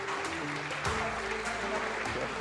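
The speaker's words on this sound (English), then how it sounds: "Can we have a round of applause for them?" Applause from a squash tournament audience at the WSF Under-23 World Championships semi-finals, steady dense clapping throughout, fairly loud and continuous with no talk over it.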